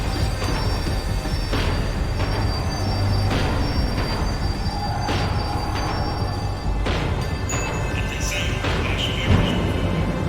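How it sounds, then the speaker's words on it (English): Tram slowing down in the action game Max Payne 3, with continuous loud rolling rail noise, clanks and rising metallic squeals from the wheels as it brakes. "The tram was slowing down, and I'd only just gotten on board."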